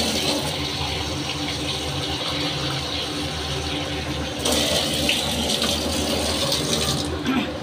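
Water is poured into a cooking pot to make Bengali fish curry, a continuous gushing splash that swells louder midway and runs unbroken for several seconds without talk.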